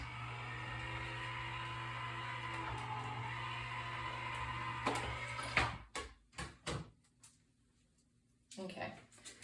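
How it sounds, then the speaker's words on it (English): Electric die-cutting machine for making cards runs with a steady motorized hum for several seconds, then stops, followed by clicks and handling clatter, heard under someone talking. "You'll hear I have an electric machine."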